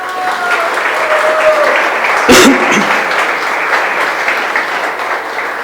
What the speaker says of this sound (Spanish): ¿Por qué no les dan un aplauso a ellos?